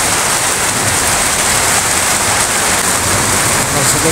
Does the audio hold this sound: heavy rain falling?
yes